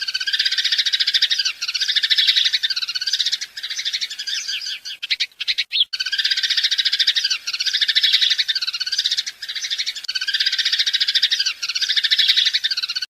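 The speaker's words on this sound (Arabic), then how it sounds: "رابعا. طائر الدوري." House sparrows chirp in a dense, unbroken chorus of busy, buzzy chatter, with a brief break midway before it resumes.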